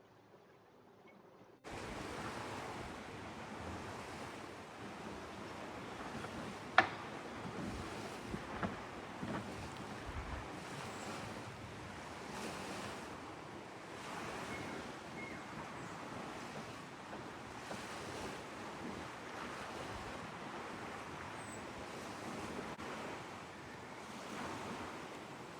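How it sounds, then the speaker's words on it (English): Wind and waves at sea during a squall aboard the sailboat SV Wakawaka, a constant low rushing roar of wind and surf with gusting swells, steady and moderately faint throughout. "Apparently there's a wind"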